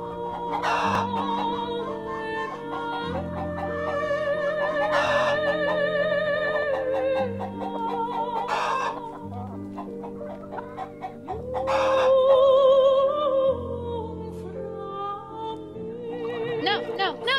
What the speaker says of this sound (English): I let the chickens out!